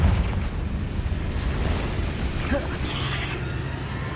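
A Confringo spell explodes inside a cave in Hogwarts Legacy, a loud rumbling boom that rolls on continuously, with a short whooshing burst partway through.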